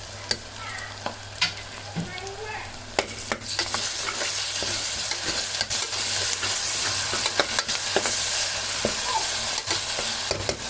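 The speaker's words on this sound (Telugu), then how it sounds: "ఇది కొంచెం ఫ్రై కావాలి ఫ్రెండ్స్" Ginger garlic paste and turmeric frying in a pan for mutton liver curry: a steady close sizzle that swells louder after a few seconds, with sharp spatula scrapes and clicks of stirring throughout.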